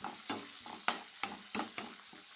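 Garlic, carrot and green chillies frying in a pan, a quiet sizzle broken by a rhythmic series of short stirring scrapes, roughly six strokes, close by.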